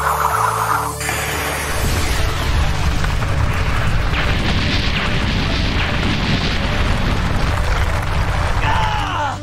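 Divine Chaos ultimate attack in Xenoverse 2, a massive booming explosion that swells after a brief charge-up and rumbles on loudly with crashing debris for several seconds.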